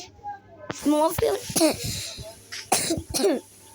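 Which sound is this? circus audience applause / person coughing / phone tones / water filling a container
person coughing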